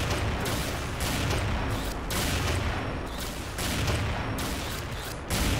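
Sniper rifle, the 8.5 Bright Moon, firing repeatedly in the shooter game XSHOT, loud dense shots and booms with game effects packed throughout, no pauses between bursts.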